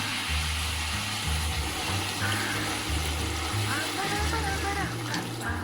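Water pours steadily with a rushing, bubbling sound, near and continuous, under a low rhythmic background hum.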